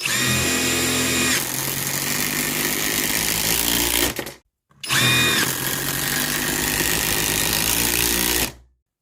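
Compact power tool driving a 3-inch screw: a loud, steady high-pitched whirring burst of about four seconds, a short pause, then a second equally loud burst of similar length before stopping.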